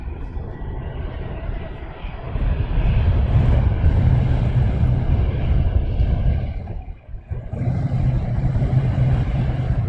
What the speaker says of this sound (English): the Wizz Air that's just taken off